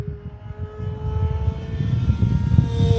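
An E-flite Super Decathlon 1.2 m electric RC plane flies steadily overhead, its propeller drone holding a sustained tone that swells slightly as it passes, with no voices.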